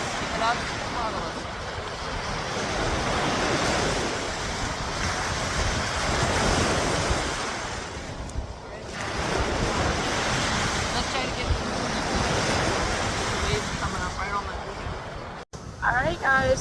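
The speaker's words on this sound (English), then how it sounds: "You watch one of the big waves like end up perfectly in between the hearts." Big ocean waves break on a Miami beach, a continuous roaring wash of surf with heavy wind buffeting the microphone and a brief dip before the next swell builds.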